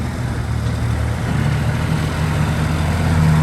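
The three-cylinder diesel engine of a used Kubota L3408 tractor runs steadily close by, a loud, even low rumble with a constant hum and no voices over it.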